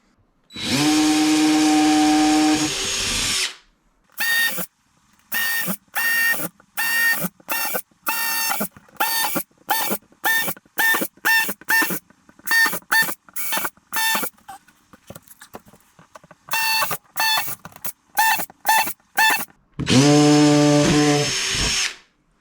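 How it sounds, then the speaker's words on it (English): A power drill bores hole after hole in a sign backboard in a rapid stop-start rhythm of short bursts, with longer, louder runs at the beginning and end. "Right, got to drill loads of them now."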